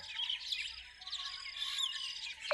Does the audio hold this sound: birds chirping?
yes